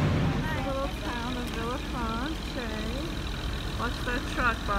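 A truck rumbles along a street in Monaco with a low engine drone under nearby people talking.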